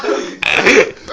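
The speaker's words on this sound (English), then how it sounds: "That was my best burp so far." A person lets out a loud, rough burp during a burping contest, a single drawn-out belch lasting most of a second, close and dry with no talk over it.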